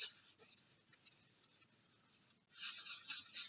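Pencil or hard tool rubbing and pressing firmly across folded paper to transfer a drawn line to the other side, a steady scratchy scraping that swells louder near the end, close and with no voices.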